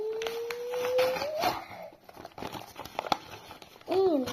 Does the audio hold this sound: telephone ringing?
no